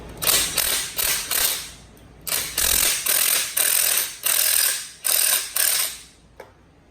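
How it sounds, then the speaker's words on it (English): A 3/4 inch socket wrench on car spring compressor tools ratchets in quick repeated bursts of clicking, each a fraction of a second to a second long, close and fairly loud, then stops near the end. "just take your 3/4 inch socket again and go ahead and loosen them"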